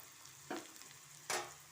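Ingredients frying in a pan give a soft, steady sizzle that flares into two brief, louder spits about a second apart.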